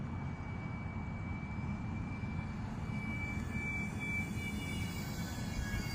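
Model Cub airplane with an 8x4 propeller running at about 55% throttle, a steady, even motor drone with a thin high whine, holding constant and alone for several seconds.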